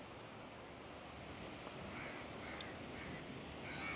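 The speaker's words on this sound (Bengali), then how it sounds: "এত কাক এখানে" Several crows caw faintly on a Mombasa beach in Kenya, a few scattered calls rising above a steady wash of surf and wind.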